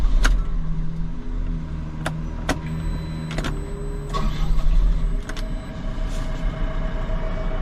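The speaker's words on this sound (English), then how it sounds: "we will start the machine." Engine of a JCB 417 wheel loader cranking and starting, a steady low rumble with clicks and electrical whines over it, running on continuously close by.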